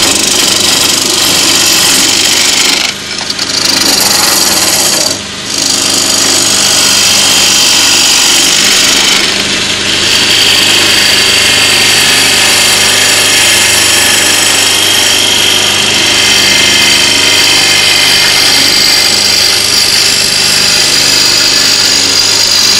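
Wood lathe spinning a bowl while a chisel shapes its bottom, a loud steady whirring drone with a scraping, hissing cut that runs continuously and dips briefly a few times, with no talk.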